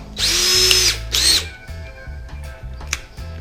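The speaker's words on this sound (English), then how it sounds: "I'm just going to drill these out just so there's a bit of place for the screws to go" A power drill whirs loudly in two bursts, drilling screw holes in mirror trim, then winds down into clicks and soft mechanical rattling nearby.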